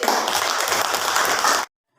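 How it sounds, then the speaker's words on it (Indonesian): Classroom audience claps together in a dense burst that ends abruptly, loud and close, with no talk over it. "Ya, tepuk tangan lagi."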